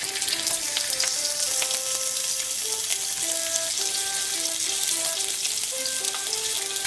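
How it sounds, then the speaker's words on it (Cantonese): Shrimp dropped into hot oil in a flat pan over high heat sizzle loudly and steadily throughout, with a soft melodic tune playing underneath. "用大火燒熱咗一個平底鑊，加入咗1茶匙半嘅油。 咁啲油咧，亦都燒熱咗啦，咁個蝦放落去啦。"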